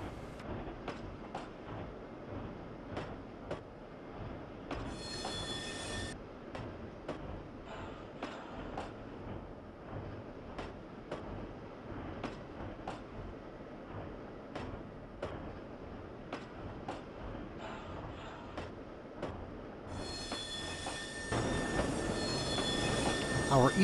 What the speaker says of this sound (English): we meet a westbound train of oil field pipe in the Toltec siding